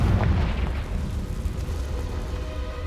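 A Confringo spell detonates in Hogwarts Legacy, a deep booming explosion with a rumbling, crackling tail that slowly fades over a few seconds.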